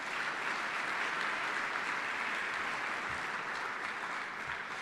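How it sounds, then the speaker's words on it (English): Steady, full applause from an audience at a retirement ceremony, a dense even wash of clapping that holds at constant strength throughout. "So let's give a round of applause to my family,"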